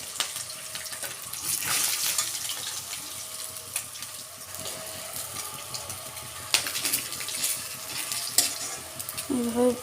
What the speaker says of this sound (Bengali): এভাবেই বাকি মাছগুলো ভাজবো